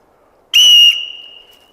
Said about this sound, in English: These little whistles also can achieve that 120 sound.